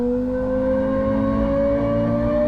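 A Toyota GR GT plays back a synthetic engine sound like a Lexus LFA's, a steady droning tone with a slowly rising pitch, loud and continuous, with no talk.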